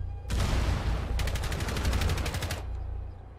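Gunfire in the video game Rainbow Six, a sustained loud burst followed by a rapid automatic rattle of evenly spaced shots, close and harsh, ending abruptly.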